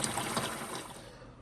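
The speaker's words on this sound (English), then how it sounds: "we're going to fill this 5-gallon pail halfway up with hot tap water" Hot tap water runs steadily into a 5-gallon pail, a continuous close rushing and splashing fill with no talking.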